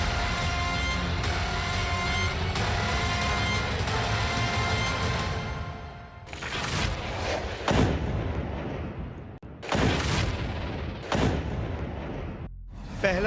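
Rocket attack explosions and artillery fire during a Hamas rocket strike, with one rocket intercepted and another detonating: a sustained rumbling barrage followed by several sharp, loud blasts at irregular intervals, with no speech.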